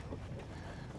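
Wind buffets a lake bank during a bass fishing trip, a steady broadband rush and rumble of low, muffled noise without any speech.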